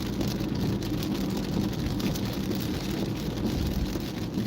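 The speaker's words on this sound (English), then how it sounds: "There's raining on the I-94 interstate." Rain falls during commuter traffic on the I-94 interstate, making a steady, dense wash of road spray and tire noise with a low rumble, continuous and fairly close, with no talking.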